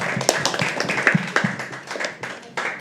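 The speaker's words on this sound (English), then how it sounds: "Okay, so now start clapping, start clapping, start clapping." Scattered audience clapping at a live poetry open mic at The Habitat. A modest number of hands produce irregular, fairly close claps, thinner and quieter than a full round of applause, with some faint background murmur.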